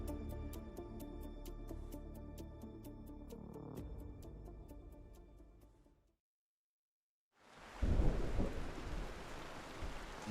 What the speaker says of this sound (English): Nice, wet, and stormy Sunday.